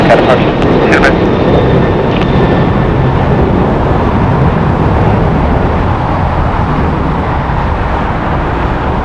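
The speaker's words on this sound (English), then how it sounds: "It's a Boeing 737-8, 6 years old." A six-year-old Boeing 737-8 airliner at LAX produces a loud, continuous jet roar close by that eases slightly toward the end, with a voice briefly audible over it.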